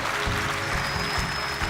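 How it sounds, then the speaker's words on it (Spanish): A church congregation applauds during a sermon in a continuous, moderate wash of clapping with a low rhythmic thump beneath it, steady throughout. "Dale un fuerte aplauso al Señor en este día"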